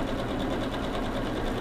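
A sewing machine runs in a steady, close whir, stitching a quilt block.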